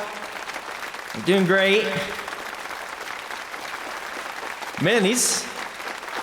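Steady applause from a conference audience welcoming a presenter at the 29th Annual Final Upright Conference, sustained throughout while someone speaks over it, his voice rising louder twice.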